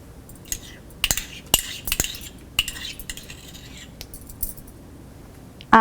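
A spoon clinks against a bowl while fish marinade with thick curd, cumin powder, garam masala, lemon juice and salt is mixed for fish tikka masala, giving sharp irregular taps over a quiet wet background.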